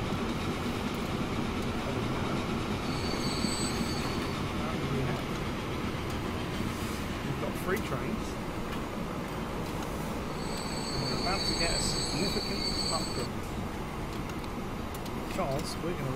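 Trains run on a line in the video game Transport Fever, producing a steady rumble of rail cars and wheels with faint squeals that sits under someone talking throughout.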